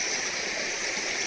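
Water pours steadily from a black pipe set in the mouth of a stone stepwell in a Himachal village, a continuous close, hissing rush with no pauses.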